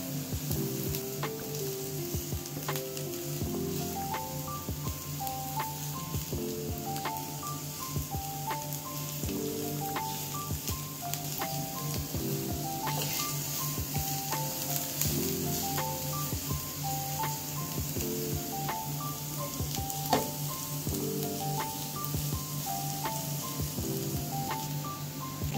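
Crushed garlic and onion sizzle while frying for homemade pizza sauce. A soft, continuous crackle sits under repetitive melodic background music for the whole stretch, with no talking.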